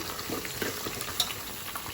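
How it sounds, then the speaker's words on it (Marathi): Green chilies frying in a pan for a home-cooked biryani, a quiet, steady crackling sizzle with small pops, close by and unbroken by any talk. "हिरवी मिरची फ्राय झाल्या."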